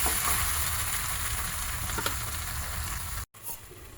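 Spice masala frying in a covered pan, with an even, dense sizzle holding steady for about three seconds before a brief dropout and a quieter return.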